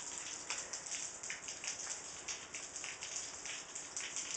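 Rain falls steadily outdoors, a continuous hiss of drops with faint irregular patters, fairly quiet and even throughout with no voices.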